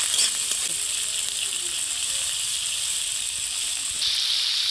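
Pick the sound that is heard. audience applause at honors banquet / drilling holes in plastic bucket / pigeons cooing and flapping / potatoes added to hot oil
potatoes added to hot oil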